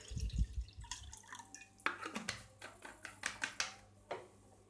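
Spoon stirring salt into water in a bowl to soak flattened rice, a series of light clinks, drips and sloshes close by and faint.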